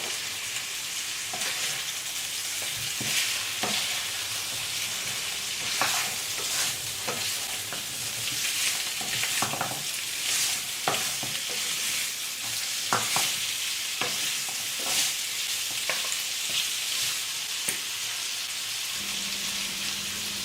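Pork ribs frying in a pan with salt are stirred again and again: a continuous close sizzle with a crackle like rain, punctuated by repeated scraping and clattering strokes against the pan, with no voices.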